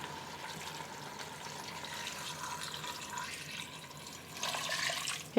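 Beef broth pours into a pot of stew with carrots, a steady liquid splash that stays even and fills the kitchen at moderate level, then grows louder and brighter near the end.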